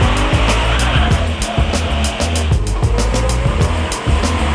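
A car is driven hard on the steep, narrow hairpins of the Trollstigen mountain road in Norway, its engine revving up and down in quick repeated bursts with gear changes and tire squeal. It stays loud and close the whole time.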